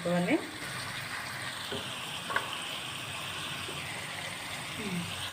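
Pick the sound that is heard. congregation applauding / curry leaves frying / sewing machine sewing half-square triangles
curry leaves frying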